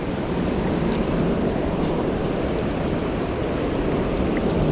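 The Potomac River runs fast right after a big flood, making a loud, steady roar of rushing water mixed with wind buffeting the microphone, continuous and close, with no talking.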